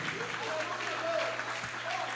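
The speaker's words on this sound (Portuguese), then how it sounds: "glorifique a Deus com palmas e bem forte" Church congregation clapping loudly together to glorify God, a steady dense wash of applause under a faint hum, with voices mixed in.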